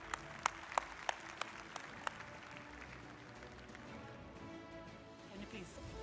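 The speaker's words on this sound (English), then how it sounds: "A huge round of applause for our very special guests." Audience clapping at a large televised summit on stage as special guests are welcomed, a steady crowd wash with sharper individual claps early on, continuing throughout at moderate level.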